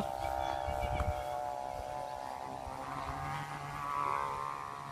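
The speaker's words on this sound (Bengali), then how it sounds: "তো ডাক শুনুন ঘুড়িটির কত সুন্দর ডাকছে" A flying chong kite gives off a steady humming drone with a faint buzzing tone that swells and fades slightly, heard outdoors at a kite festival amid wind noise and faint background voices.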